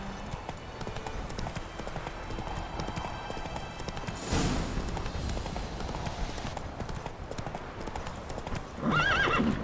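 Roach the horse galloping in The Witcher 3, strong rapid hoofbeats with a whinny, the pace surging midway and a brief voice near the end.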